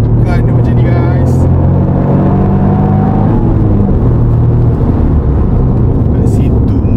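A Toyota GR Yaris homologation hatchback engine whirs and rumbles loudly up close as the throttle is pressed, its tone rising slightly and holding steady.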